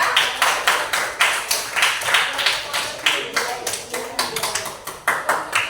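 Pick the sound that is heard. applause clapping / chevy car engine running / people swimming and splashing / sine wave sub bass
applause clapping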